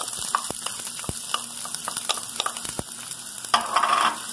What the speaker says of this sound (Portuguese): Aqui eu vou estar colocando a cebola para dourar